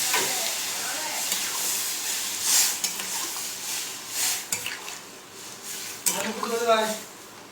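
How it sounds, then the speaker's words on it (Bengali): Water poured into a hot pan of chickpea and potato curry sends up a steady broadband sizzle and steamy hiss lasting throughout, with a few clinks of the pan and a voice talking near the end. "এবার আমি দিয়ে দিচ্ছি জল।"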